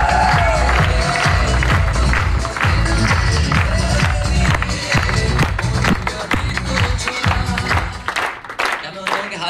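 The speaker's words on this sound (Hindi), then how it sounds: "जबरदस्त ताली बजाइए मेरे राजेश" An audience at a presentation in Indore breaks into loud, sustained applause. Thick, rapid clapping from many hands with some crowd noise, easing slightly toward the end.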